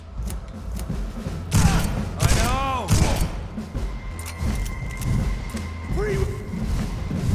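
Rifle gunfire in the video game Vampyr: several heavy thuds and sharp reports ring out amid game effects over about seven seconds, loud and close, with a voice talking over parts of it.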